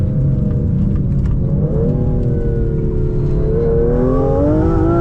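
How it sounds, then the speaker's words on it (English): A 2025 Aston Martin Vanquish engine at full throttle, loud and close, rising steadily in pitch as it climbs through the revs toward the rev limiter with a continuous roar. "full throttle, bounce off the rev limiter. So that was full throttle."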